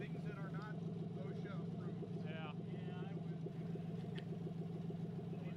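A Chevy S10 fitted with a V8 and FiTech fuel injection idles at about 800 RPM in a steady, even rumble, with someone talking over it.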